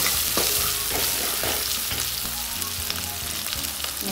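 A frying pan of turmeric and chili powder sizzles loudly as the spices are stirred, giving a dense, continuous crackle with faint scraping underneath, up close and without speech.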